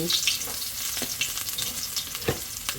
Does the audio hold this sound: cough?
no